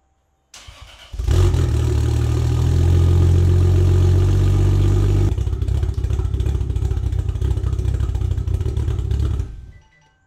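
A Toyota Supra Mk4 turbo engine with a custom exhaust and open wastegate starts and runs loud and close, a deep steady rumble with a rougher stretch midway before it shuts off.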